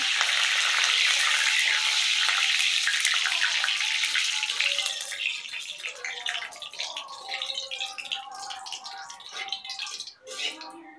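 Curry leaves hit hot mustard oil in a kadai with a loud, dense crackling sizzle that gradually settles into scattered spits and pops; nearby, close-up, with no talking.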